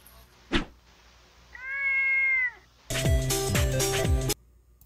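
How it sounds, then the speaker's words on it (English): A cartoon cat meows in an SMG4 animation: a drawn-out meow, then a louder, longer wailing caterwaul over music, preceded by a short sharp hit. "When did Maggie get a cat?"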